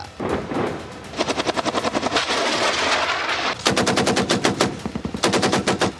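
Gunfire along the India-Pakistan border: loud, rapid bursts of automatic fire in long rhythmic strings, broken by brief pauses and dense overlapping volleys, with no voices.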